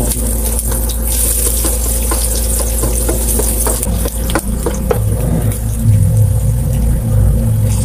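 Chopped onion and garlic sizzle and fry in a hot pan for home-cooked ginisang monggo, with a steady loud crackle and occasional scraping stirs close by.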